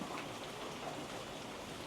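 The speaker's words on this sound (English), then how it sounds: "I wanted to come out and let you hear the rain" Steady rain pours down, a dense, even hiss of drops striking surfaces close by, with no voices.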